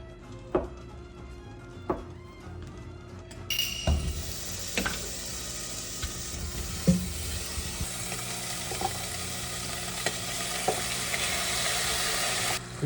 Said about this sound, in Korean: 김치 볶으실 때 참기름 있으시면 참기름 조금 같이 넣고 볶으셔도 돼요.